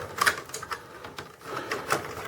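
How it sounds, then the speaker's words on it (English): A Dell Inspiron M5030 laptop panel pried upward by hand, giving a few sharp plastic clicks and snaps at close range with brief pauses between them. "You're going to hear some clicking."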